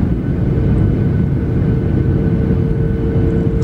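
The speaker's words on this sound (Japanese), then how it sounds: "飛行機は順調に高度を落とし、まずは神戸空港に着陸します" Cabin noise aboard a Skymark airliner descending toward Kobe Airport, a loud steady low engine and airflow roar with a faint high tone running through it.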